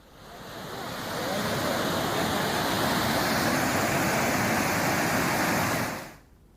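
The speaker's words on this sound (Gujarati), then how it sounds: "જે પાણી છે ઉપરથી ટોપિંગ થઈને જઈ રહ્યું છે" Floodwater from a swollen river in Gujarat, after heavy rain, pours over the top of a damaged river diversion road. It makes a loud, continuous roaring rush that swells in and then cuts off near the end.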